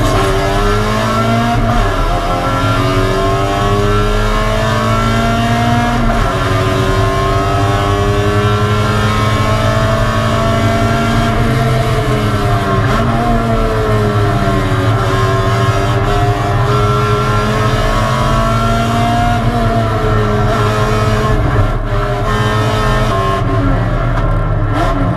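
A K-swapped Honda Civic race car screams around a track, its engine loud and continuous as revs climb and fall through gear changes, heard close from onboard for the whole stretch.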